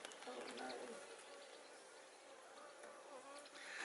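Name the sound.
bees buzzing in a beehive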